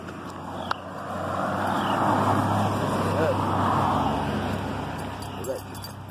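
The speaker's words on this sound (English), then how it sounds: "cars go by." Cars drive past on a road outdoors, one broad whoosh swelling up and fading away over several seconds with steady background hum, moderately loud and without talk over it.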